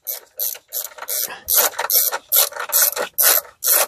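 Ratchet wrench loosening the 13 mm battery bracket bolt on a 2012 Hyundai Tucson, a close, loud run of about ten quick clicking bursts in steady rhythm, with no talk.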